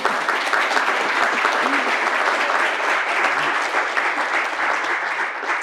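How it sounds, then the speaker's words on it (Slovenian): An audience at a Slovenian National Council plaque award ceremony applauds steadily, a dense, even wash of many hands clapping that holds at full strength throughout. "Si tudi podeljevalca zaslužita aplavz."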